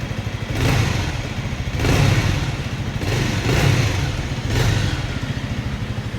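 Bajaj Avenger 220 Cruise motorcycle engine revved repeatedly at close range, four rising surges of a deep exhaust note over a steady idle, with no talking.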